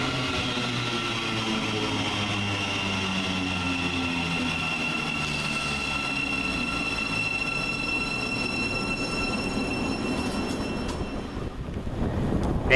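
A Thameslink Class 700 electric train running the Bedford to Gatwick Airport service arrives at Flitwick station, a steady loud rumble with squealing wheels and rising whine as it pulls in close.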